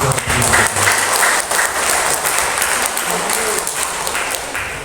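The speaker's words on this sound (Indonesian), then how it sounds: "Beri tepuk tangan meriah." Loud, sustained audience applause at a school sharing session with its founder, a dense and even roar of clapping from many people lasting the whole stretch and tapering slightly toward the end.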